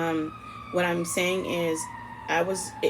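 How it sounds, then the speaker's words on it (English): A wailing siren tone from sirens passing outside runs steadily in the background while someone talks over it in short phrases. "Excuse me if you hear the sirens outside."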